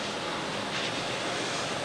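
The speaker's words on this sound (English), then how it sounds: "So let's go over here to our pot of boiling water." A pot of water close to boiling gives a steady, dense hiss and rumble, evenly loud throughout with no distinct bubbles breaking through and no talking.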